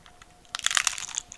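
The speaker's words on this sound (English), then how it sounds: "You can hear the crunch on the camera." A loud, close crunch of someone biting into crunchy food, a burst of crackling chews after a brief quiet moment.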